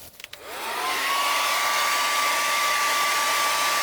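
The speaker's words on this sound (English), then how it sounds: "I'm going to dry it off with my hair dryer." A hair dryer on high clicks on outdoors on a deck, spinning up to a loud, steady high-speed whine and blowing rush that continues without pause while drying water off a hydro-dipped tumbler.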